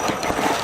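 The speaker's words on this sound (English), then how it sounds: "Oh, look, I have a back axle slipping now too." An RC crawler truck's back axle slips on an indoor course, giving a short burst of close, rapid mechanical ratcheting and gear clatter with no talk.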